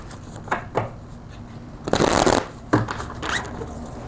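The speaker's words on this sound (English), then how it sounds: "Let me pull some more cards and then we'll get into the message even more." Tarot cards are shuffled and pulled close up, with short riffling bursts and soft flicks. One longer riffle comes in the middle, followed by quieter slides and taps of the cards.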